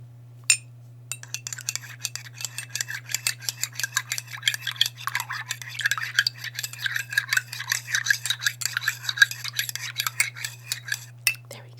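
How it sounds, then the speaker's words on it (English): A spoon stirs lemon honey tea in a cup, making a quick, continuous run of close, bright clinks and scrapes against the sides. A steady low hum sits underneath, and no one speaks. "now I'm just going to be stirring around the lemon honey tea concoction"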